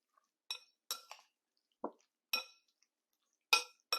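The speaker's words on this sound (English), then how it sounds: "Stir this up well." A spoon stirring a gluten-free casserole mixture in a dish produces a few sharp, separate clinks and scrapes of metal against the bowl, heard close up in a quiet room.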